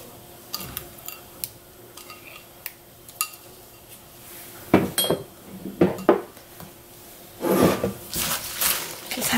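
A seasoned scallop salad with lettuce being gently tossed by hand in a bowl, with soft scattered clinks, rustles and scrapes of utensils and dishes, growing busier toward the end.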